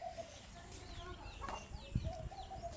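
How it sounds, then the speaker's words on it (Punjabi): A rooster and chickens cluck faintly in the distance, a few scattered clucks over a quiet outdoor background. "ਉਹ ਕੁੱਕੜ ਫੇਰ ਰਿਹਾ ਮਗਰ ਉਹ ਦੇਖੋ ਕੁੱਕ ਕੁੱਕ"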